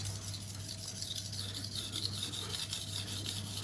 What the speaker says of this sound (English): and start grinding. I will start on this side, raise the burr and flip to the other side